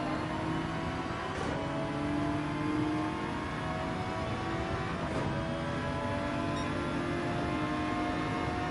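Race cars lapping in Gran Turismo 7 during a qualifying race with a Suzuki and a Porsche on track: a steady, layered engine whine from several cars, moderately loud and continuous, with brief swells as cars pass.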